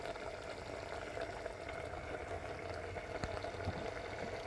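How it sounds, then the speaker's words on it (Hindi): Boneless lemon chicken karahi simmers and bubbles in a pan as a little water goes in, a continuous close hiss and burble with brief splashing. "अब इस स्टेज पर मैं इसमें थोड़ा सा पानी डालूंगी"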